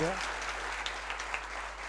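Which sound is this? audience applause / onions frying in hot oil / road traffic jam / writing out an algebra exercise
audience applause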